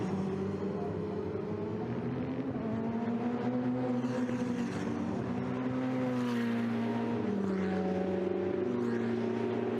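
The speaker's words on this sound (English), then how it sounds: "So the sound of the 488 Challengers as they run downhill now underneath the bridge" Ferrari 488 Challenge Evo race cars run downhill under a bridge at the Imola circuit during a Ferrari Challenge Europe race, a continuous loud engine roar whose pitch sweeps and shifts as several cars pass in a row.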